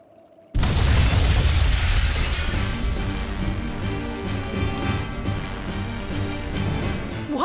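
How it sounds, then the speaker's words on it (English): Flamestone, sulfur and oil stores blow up in a fantasy action video game: a sudden heavy boom bursts in after a brief quiet moment, then a dense roaring rumble with crackling debris carries on loudly to the end. "Tools of flamestone, sulfur, and oil. Those will explode."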